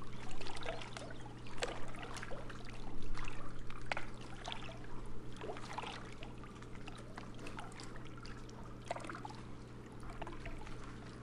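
Continuous flowing, trickling water in the video game Hunting Unlimited 2001, with a gentle splashing texture over a low steady hum, moderately quiet and unbroken throughout.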